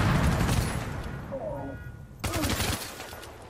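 Rapid bursts of gunfire in the video game The Division on PS4 crackle in a dense volley, with a brief lull and then another sharp burst of shots.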